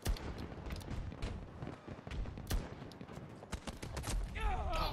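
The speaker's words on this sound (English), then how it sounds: "Goddamn sentry guns." Automated sentry guns firing in a Battlefield video game, sustained rapid bursts of gunfire with sharp cracks and occasional louder impacts, dense and continuous throughout.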